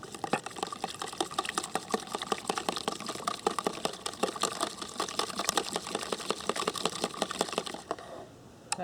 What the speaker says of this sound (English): just going to crack the egg and just beat it up a bit